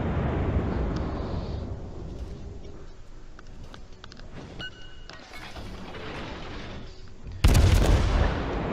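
Naval gunfire in World of Warships, with deep rumbling booms and heavy gun blasts over a steady low roar, ending in one very loud, close explosive burst near the end.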